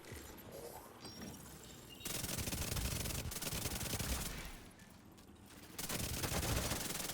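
A Chatterbox SMG in The Division 2 fires in fast, dense automatic bursts, a continuous buzzing rattle that stops and starts in several long strings, loud and close, with no talking.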